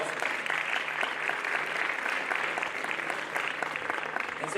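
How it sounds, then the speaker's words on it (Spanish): Sustained audience applause for a speaker at an expert panel on artificial intelligence and adaptive learning, a dense, steady wash of many hands clapping at moderate volume throughout, with no voices on top. "Pido un gran aplauso."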